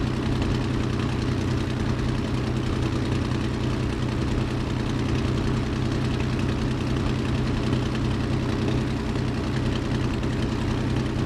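A Messerschmitt BF109 piston aircraft engine idles steadily at low revs while taxiing in Microsoft Flight Simulator, a loud, constant droning rumble with a fast rhythmic pulse and no talk over it.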